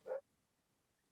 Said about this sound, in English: As the dog barks in the background.